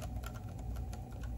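Rapid clicky key presses on an IBM ThinkPad 760 laptop keyboard damaged by a leaking NiCd battery, about a dozen close, fairly even taps in quick succession with no speech.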